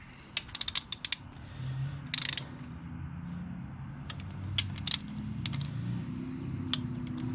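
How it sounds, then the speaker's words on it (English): A ratchet snugging bolts during an LS4 engine cam and timing set install, bursts of rapid clicking from close by separated by pauses, with a low mechanical hum beneath. "Just kind of snug these up a little bit before I actually torque it."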